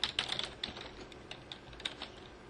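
Someone types on a computer keyboard, a quick uneven patter of soft key taps, fairly close and quiet with no talking.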